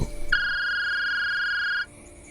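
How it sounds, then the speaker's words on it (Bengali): A single electronic phone ring tone, a steady bright trill lasting over a second, rising suddenly from quiet and cutting off cleanly. "ফোনটা বেজে উঠল।"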